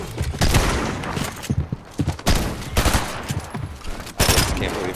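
Rapid bursts of gunfire in Fortnite, loud, dense volleys of shots separated by brief gaps, with a voice faintly underneath.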